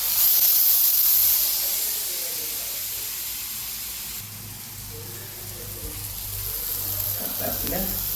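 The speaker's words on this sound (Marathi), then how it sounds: "आता आपण हे मसाला लावून घेतलेला आहे, आता आपण भाजून घेऊया" Masala-coated brinjal slices shallow-fry in a hot pan, a loud, steady hiss and sizzle close by that eases slightly partway through and stays continuous with no clear voices.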